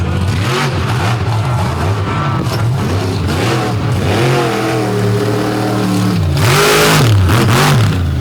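A motorsport machine's engine revs loudly as it rolls out at a night event in Benson, North Carolina, with rising and falling pitch sweeps over a continuous roar and crowd noise in the background.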